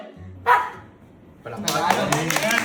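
A pet dog performing a trick barks on command, giving a short bark near the start and then further barks mixed with a person's voice, close and fairly loud.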